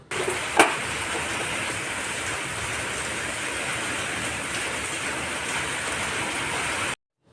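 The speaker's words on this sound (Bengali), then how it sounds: "বাইরে ঝমঝমিয়ে বৃষ্টি" Heavy rain pours outside a village house as a dense, steady, even wash of noise that stops abruptly at the end; no one speaks.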